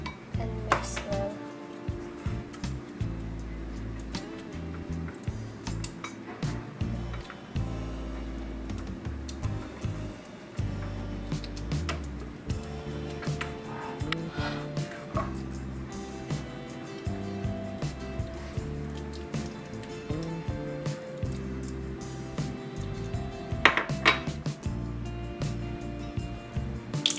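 A teaspoon of yeast is mixed into yellow laphing batter in a bowl. A utensil clinks and scrapes against the bowl in an uneven, busy rhythm, close and fairly soft, running without a break.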